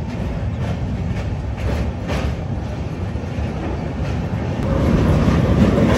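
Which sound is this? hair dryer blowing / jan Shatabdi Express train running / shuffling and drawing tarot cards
jan Shatabdi Express train running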